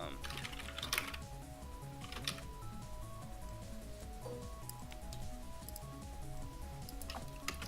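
Quick, irregular clicks of typing on a computer keyboard, fairly close and moderately quiet, running steadily with a few louder keystroke clusters and game music in the background.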